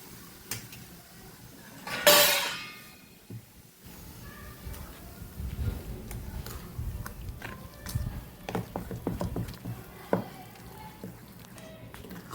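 A spoon clanks against a bowl as dhokla batter is stirred with Eno and water, first with a sharp metallic clatter and then with soft wet scraping and swishing strokes, close and fairly quiet.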